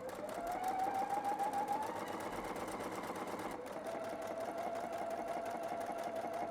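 A sewing machine runs steadily and close for several seconds, stitching binding onto knit fabric with a continuous whirring drone and a brief change in pitch partway through.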